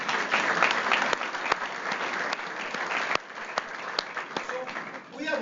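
An audience at a Phoenix chamber of commerce event applauds with dense, sustained clapping that carries on throughout and fades slightly near the end.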